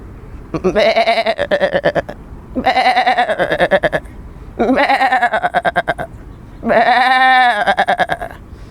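A human voice imitating an old female goat's bleat: four long, quavering, slightly hoarse bleats separated by short pauses, the last one higher and more wavering.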